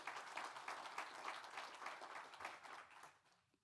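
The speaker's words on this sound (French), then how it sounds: "je voudrais que vous l'applaudissiez très fort" Audience applause fills a conference hall at a partnerships forum, a steady wash of clapping from many hands at moderate level that fades toward the end.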